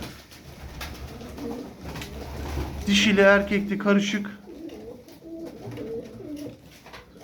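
Domestic pigeons coo in a short burst of throaty, rolling calls, close by, while someone talks over them.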